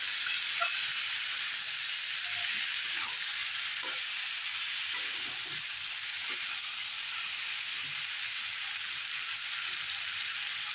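Fresh field beans (pavta) sauté in a hot pan for biryani, giving a steady soft sizzle with faint scattered clinks of stirring and no talk.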